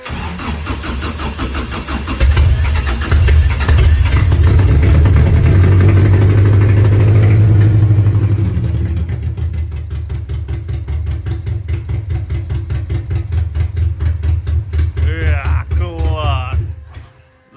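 An engine cranks and catches, roars loudly for several seconds, then settles into a rapid, pulsing idle that chugs steadily until it stops.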